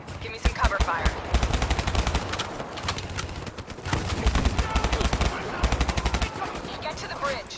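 Loud covering gunfire during a Black Ops III campaign mission, rapid automatic bursts repeating in clusters with brief pauses, mixed with battlefield effects and occasional voices.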